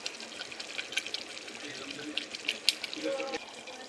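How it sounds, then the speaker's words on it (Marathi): Water is poured in small amounts into a simmering soybean vadi curry, giving a soft, uneven trickle and splash with faint clinks of the pan close by. "आता आपण थोडं थोडं पाणी घालणार याच्यामध्ये."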